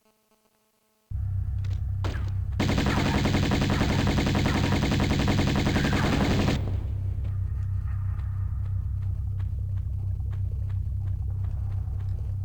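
Pistol gunfire in the Tomb Raider remastered video game: a sustained, loud stretch of fast repeated shots over a constant low game rumble, followed by scattered sharp clicks and ambience, with no talk.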